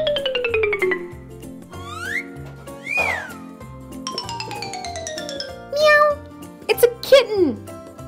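An orange toy kitten gives a few short electronic meows among toy chimes and jingles, set over a cheerful looping music backing; a voice speaks.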